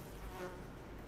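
Faint, steady buzz of a housefly in an anime episode, continuous and low in level for about a second with no speech over it.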